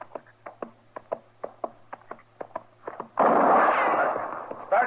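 A single loud gunshot blast with a long rumbling tail rings out in an old Gunsmoke western radio drama, following a run of sharp, evenly spaced clicks or footsteps.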